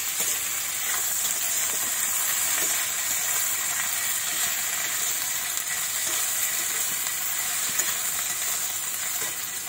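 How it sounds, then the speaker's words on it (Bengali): Vegetables frying with ginger-cumin paste in a pan for a silver carp fish-head vegetable curry, a continuous close hiss and sizzle with faint scrapes of stirring, no speech. "এই সবজিগুলো একটু ভাজা ভাজা করে নেব, তারপরে জল দেব।"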